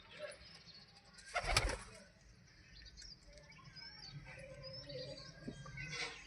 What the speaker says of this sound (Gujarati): કબૂતર વધારે થઈ ગયા છે